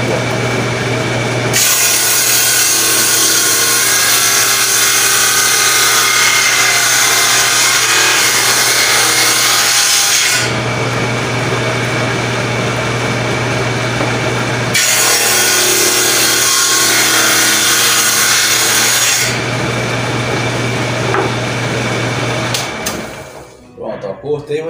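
A band saw cuts through a small piece of wood, its loud motor hum and rasping blade noise running in long bursts with brief quieter gaps between passes as the piece is turned to finish the cut.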